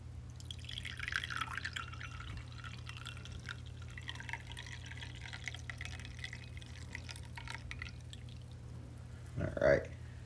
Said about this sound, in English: You guys can see the clarity of the pour here.